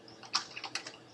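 Typing on a computer keyboard: a short run of light, uneven key clicks at close range, fairly quiet, with no one speaking.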